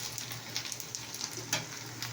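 Okra frying in hot oil, a soft steady sizzle with faint crackles and small pops, heard close up and alone at low volume.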